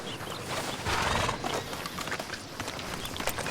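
A horse in the video game Red Dead Redemption II, loud close hoof clops and snorting with a brief whinny-like swell, heard continuously over a dense game soundscape.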